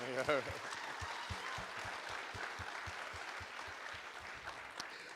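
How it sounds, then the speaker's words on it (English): Quiet applause from an audience at a university employee event, faint and fairly even, with a brief voice near the start. "Let's give them another round of applause."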